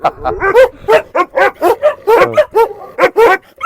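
An Anatolian shepherd dog barks repeatedly in quick, loud bursts, close by, with a few yelping, whining notes mixed in.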